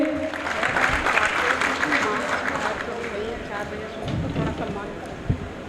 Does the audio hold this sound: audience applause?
yes